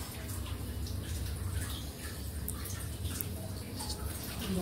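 Tap water runs in a steady, hissing stream while raw chicken is washed under it, with no pauses.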